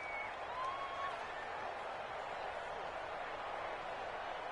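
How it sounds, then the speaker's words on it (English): A stadium crowd in the football video game Madden 20 gives a steady, broad roar of cheering and applause ahead of a big third down, with a commentator's voice running over it. "The crowd getting into it as we come up on a big 3rd down"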